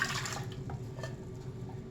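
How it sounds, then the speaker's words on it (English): Cold water splashes and trickles into a bread machine pan, a soft, close pouring sound that fades quickly into a faint, quiet background. "So I'm going to add my cold water"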